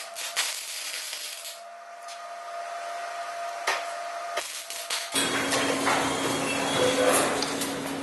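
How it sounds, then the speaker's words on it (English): MIG-style welding of a kickstand onto a Yamaha Virago XV920 motorcycle frame during a café racer build; a steady buzzing crackle starts about halfway through, following quieter shop noises and a few knocks, loud and close. "I'm going to just go ahead and weld this now"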